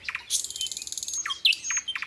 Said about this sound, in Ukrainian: Починає Соловейко виспівувати гімн весні.